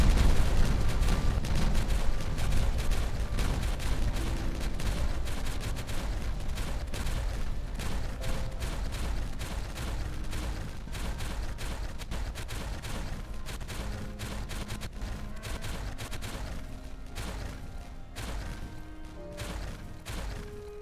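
Dense, continuous barrage of booms and crackling blasts with rapid-fire bursts, loud and sustained throughout, no voices; explosions in the video game Timberborn.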